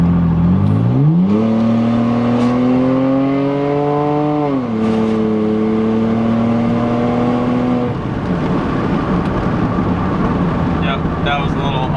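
A Saab Turbo X turbo engine pulls hard uphill, its steady rising drone climbing through a gear with a short shift dip before settling into loud, continuous cruising hum inside the cabin.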